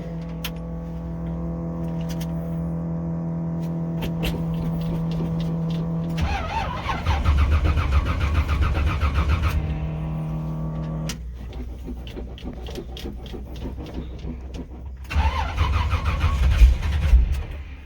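Old car engine cranking on a cold start with a weak battery, steady whirring starter churning in long stretches broken by pauses, close and fairly loud, with rougher rumbling surges as it tries to catch.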